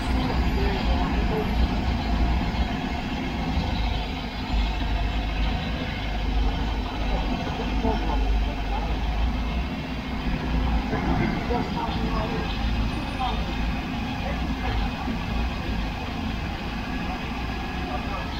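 A speedboat's V8 454 engine runs steadily at a low, rumbling idle, a continuous broadband drone held at an even level throughout with no clear revs.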